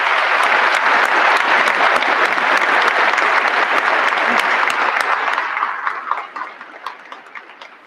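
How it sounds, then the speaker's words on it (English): Sustained applause from a large commencement crowd for the Corps of Cadets Class of 2021, a dense steady roar of clapping that holds for several seconds and then thins and fades out near the end. "Let's give them a round of applause, please."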